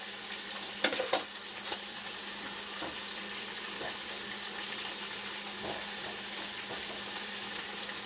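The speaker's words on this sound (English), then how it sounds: "start flipping this tuna steak so we don't burn it. Cast iron's not that hot yet." Ahi tuna steak sizzling in a cast iron pan that is not yet fully hot, a steady hiss with a few tong clicks and scrapes as it is flipped.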